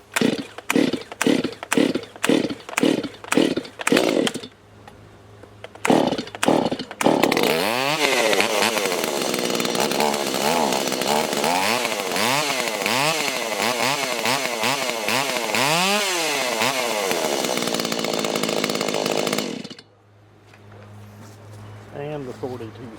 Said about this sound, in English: The saw has a nice sound to it for what it is.